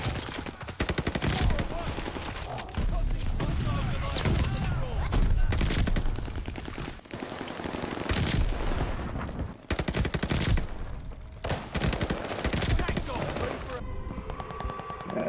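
Heavy machine gun fire in the shooter video game Call of Duty: Vanguard, loud sustained bursts and fusillades with brief pauses between them, along with scattered impacts and other battle noise.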